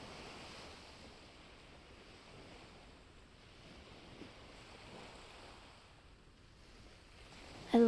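Ocean waves wash gently into a quiet beach cove, a soft, continuous surf wash with light wind noise, low and even in level, with no voices, ending in a brief louder bump.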